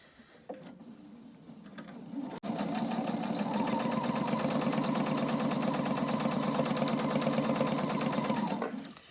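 A sewing machine top stitching a fabric face covering runs in a fast, steady mechanical whir for several seconds, close and even, after a short stretch of quiet handling noise.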